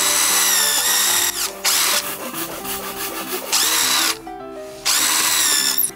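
A power drill bores holes in bamboo, whirring loudly in several bursts separated by brief pauses and grinding, rubbing sounds as the bit works through the wood.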